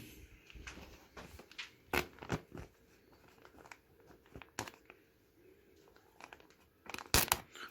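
Plastic oyster mushroom grow bags being torn open with small holes, producing a series of short, close tearing and crinkling bursts, with louder rips near the end.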